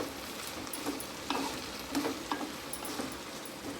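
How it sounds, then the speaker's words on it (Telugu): Green chillies and mint leaves frying in a pan for coconut chutney, a moderate steady sizzle with several soft stirring scrapes and clicks, no voices. "పచ్చిమిర్చి ఇలా వేసుకున్నాక పుదీనాకు కూడా వేసేసేయండి. ఇది కూడా వేగాలి, అందుకు. ఇవైతే ఇప్పుడు వేపుకోవాలి."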